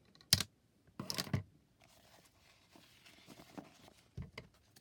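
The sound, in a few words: cutting craft material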